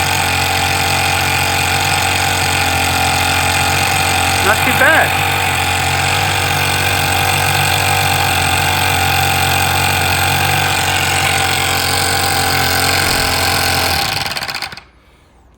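A Toyan FS-S100 model engine runs loud and close in a steady, even drone with a buzzing edge, with a brief remark partway through, then cuts out abruptly near the end.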